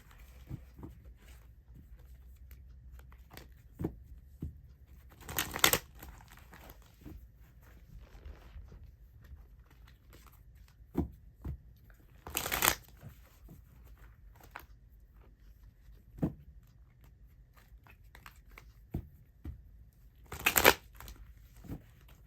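Tarot cards being shuffled in a quiet room: three short, crisp riffling bursts spaced several seconds apart, with faint handling rustles between them.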